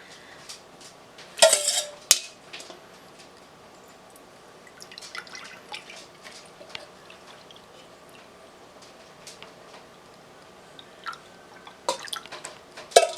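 Homemade elderberry syrup is poured through a funnel with a faint, steady liquid trickle under clinks of a pot and utensils, plus a few louder clatters at the start and end.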